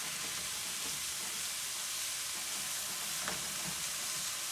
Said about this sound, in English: Now break that up with your spoon as you're stirring it in, just like you would normal mince